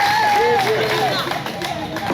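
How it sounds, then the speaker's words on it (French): Studio audience applause on a French TV word game show, a loud, dense wash of clapping with a few whoops and a host's voice gliding over it, easing slightly toward the end. "on applaudit"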